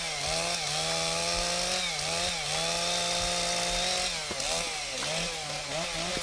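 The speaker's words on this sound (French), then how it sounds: "ensuite démarre la scie. Il coupe en ce moment la coupe d'arrêt" A chainsaw runs steadily and loud up close while felling a tree, its engine pitch dipping and rising as it bites into wood during the holding cut, with brief throttle changes toward the end.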